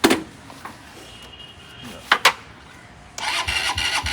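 Motorcycle engine kick-started on the second kick: brief mechanical thumps and a sharp burst, then the engine catches and runs loud and steady near the microphone in the final second, with faint voices in the background.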